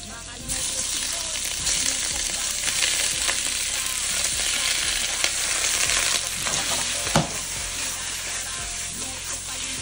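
Shrimp sizzling in butter for pansit batil, a steady, loud frying hiss lasting throughout with occasional clinks and stirring scrapes, no voices.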